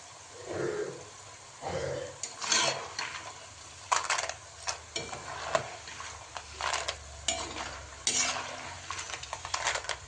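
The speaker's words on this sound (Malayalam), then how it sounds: "മീഡിയം ഫ്ലെയിമിൽ വെച്ച് വേണം വറുക്കാൻ" Banana chips frying in oil in a pan over medium flame, heard as soft sizzling under repeated scraping and stirring clatter in uneven bursts, fairly quiet and close.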